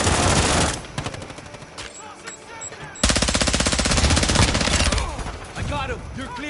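Rapid bursts of automatic gunfire from a fast-firing gun in a multiplayer shooter video game, loud and close, with a short lull before a second dense volley and scattered shots at the end.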